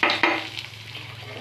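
Tempering spices of dried chillies and garlic sizzling in hot oil, a short burst of close hissing with two sharp stir clatters early on, then a softer fading sizzle.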